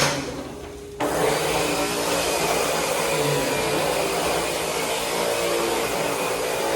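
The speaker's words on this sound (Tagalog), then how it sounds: "Ito yung vacuum." A vacuum cleaner used by a professional cleaner in Canada switches on with a sudden jump in loudness, then runs as a steady, close whooshing roar to the end.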